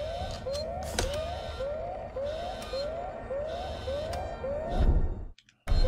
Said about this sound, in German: Oh nein, Alarm.